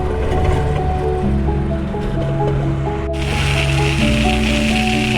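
Water trucks pour water onto a frozen winter ice road near Yakutsk, giving a steady rushing gush over a low, even engine hum that runs continuously without pause.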